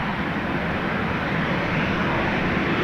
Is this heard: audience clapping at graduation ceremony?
no